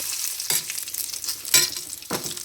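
Gongura (sorrel) leaves fry in a pan with a continuous crackling sizzle, broken by a few louder scraping strokes of a spoon stirring the leaves, close and fairly loud.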